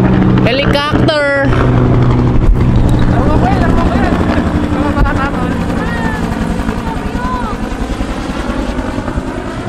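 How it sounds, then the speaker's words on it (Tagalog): A helicopter flies overhead in an urban area, its low rotor thrum loud and steady throughout, while a person shouts and others talk over it at the start. "Helicopter!"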